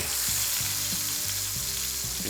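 Lamb chops sear on a hot barbecue grill, giving a dense, continuous sizzle, loud and close, with faint low knocks underneath and no voices.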